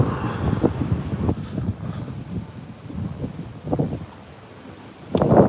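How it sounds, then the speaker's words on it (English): Gusty wind in Las Vegas buffets the microphone with a steady low roar that rises and falls, swelling again near the end. "Oh, can't open because it's windy."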